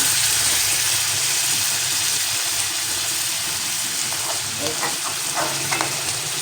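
Bottle gourd dal sizzles in a pan just after a little water goes in, a steady loud frying hiss with faint stirring ticks and bubbling pops near the end.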